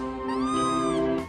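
A kitten gives one drawn-out, rising and falling meow, loud and close, alone with no other sounds.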